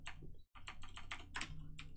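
Rapid keystrokes on a computer keyboard while entering code, a dense run of close, crisp clicks with one brief pause, loud and clear with no talking.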